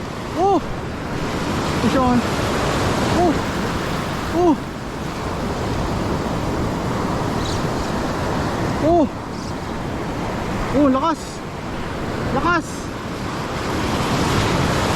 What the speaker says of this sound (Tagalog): Yun na, buti may alon.